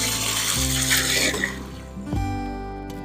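Water from a hose pours steadily into a tree's planting hole during dry-season watering, a close continuous gushing and splashing with a brief gurgling surge near the end.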